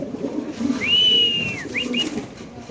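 Male Birmingham Roller pigeon cooing at close range, a single drawn-out rising-and-falling call followed by a couple of short softer notes over quiet background murmur.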